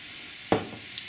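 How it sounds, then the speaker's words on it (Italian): Butter melting in a frying pan fizzes with a steady soft sizzle, broken by one sharp clink of a utensil and a faint later tap. "Qui si sta praticamente sciogliendo il nostro burro. Qua hanno incominciato anche a friggere"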